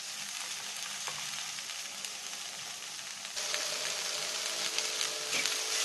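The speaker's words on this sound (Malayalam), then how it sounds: "വെണ്ടയ്ക്കയും കൂടെ ചേർത്ത് കൊടുത്തതിന് ശേഷം ഹൈ ഫ്ലെയിമിൽ വെച്ച് തന്നെ വഴറ്റിയെടുക്കുക." Okra for vendakka thoran sautés with onion in a pan over high flame, making a steady, moderate sizzle that grows louder partway through, with faint occasional stirring scrapes.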